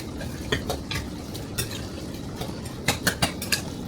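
Shrimp dumpling filling, sweetened with brown sugar, is mixed in a bowl with a utensil, giving irregular clinks and scrapes against the dish over a faint wet stirring sound, with no talking.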